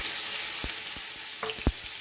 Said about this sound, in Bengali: ডালে দেব ফোড়ন, শুকনো লঙ্কা, তেজপাতা, 5 ফোড়ন দিয়ে দিয়েছি